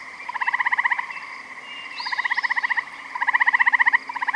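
Gray tree frogs trill in the Canadian wilderness, several bursts of rapid pulsed croaking repeating one after another, fairly close and clear over a quiet background.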